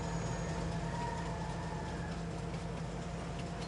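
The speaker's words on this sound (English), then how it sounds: "Love listening to this diesel engine start up." A diesel tractor engine in Farming Simulator 19 rumbles steadily at moderate volume, a constant low drone with a faint high whine on top like a turbine, with no talking over it.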